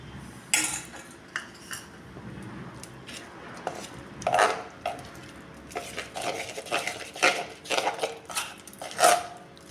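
Kachayam batter being mixed in a bowl with a ladle, giving uneven scraping and clinking strokes, close and fairly soft, with no one talking.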